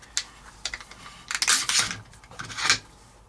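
A Daniel Defense DDM4 V7 rifle being flipped open, a few sharp metallic clicks and clacks from the receiver and bolt carrier, close and fairly loud, with no one talking.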